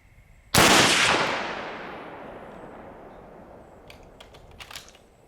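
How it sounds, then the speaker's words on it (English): A C308/Cetme rifle fires once at the range, a sharp, loud crack followed by a long decaying echo, then a few faint clicks and rustles. "Let's go ahead and take another shot here."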